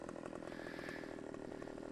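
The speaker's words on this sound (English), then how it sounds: "and then bring your saw and your chainsaw up, there's a blue mark right there. Cut it." Chainsaw cutting through a tree while logging in the video game Farming Simulator 15, a steady, continuous buzzing engine drone that holds loud and even for the whole stretch with no talk over it.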